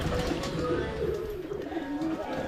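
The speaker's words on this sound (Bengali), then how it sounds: "কবুতর এখন আসতেছে আস্তে আস্তে" Pigeons on a rooftop coo softly as they come in to eat scattered food, low repeated coos over a steady hiss of outdoor background.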